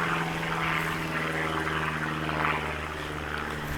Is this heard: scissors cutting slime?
no